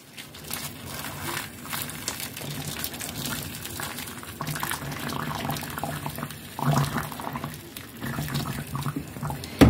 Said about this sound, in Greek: Και νερό βραστό.